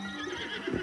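A horse whinnies loudly and briefly in the video game Breath of the Wild, close up, with faint hoof clops beneath.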